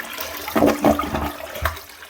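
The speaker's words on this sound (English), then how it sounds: "Especially on a half flush, the siphon and pull are just absolutely pathetic." Aquasource dual flush toilet from the early 2010s giving a weak half flush: a short gurgling rush of water and a feeble siphon pull, close and fairly loud, with no voices.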